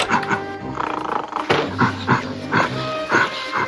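Dogs and other animals growl and roar in a short run of rough, overlapping bursts, fairly loud and close, with a few sharper yelps breaking through.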